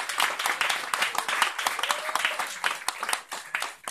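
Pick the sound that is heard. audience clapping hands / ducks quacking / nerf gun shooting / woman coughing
audience clapping hands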